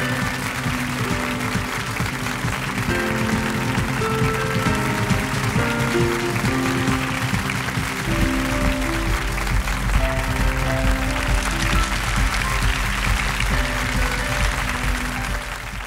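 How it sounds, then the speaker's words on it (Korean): Audience applause at a Korean tech knowledge-concert forum, a dense, sustained wash of clapping from a large crowd with music playing underneath, swelling slightly in the later seconds. "박웅현님을 큰 박수로 맞아주시기 바랍니다."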